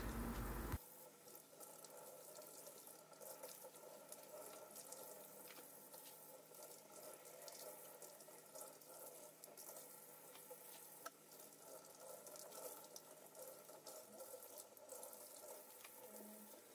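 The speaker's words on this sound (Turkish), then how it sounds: "Musluk altında kuru yufkaları arkalı önlü olacak şekilde ıslıyorum." Tap water runs steadily in a sink, a continuous hiss with faint splashing as dry yufka dough sheets are wetted front and back under the stream.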